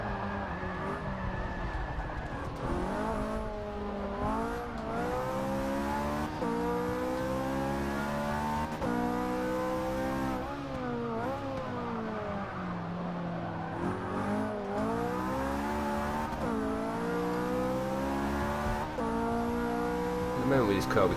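Racing car in Forza 6 accelerating hard through repeated gear changes, loud engine note rising and falling, with tyres squealing as the back end slides round during corners.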